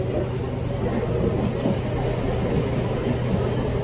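Steady rumble and rattle of a moving, nearly empty Mumbai local train heard from inside a carriage, continuous and fairly loud, with faint clinks.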